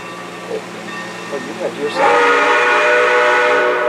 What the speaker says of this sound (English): A whistle blast alerts waiting passengers that their train has arrived.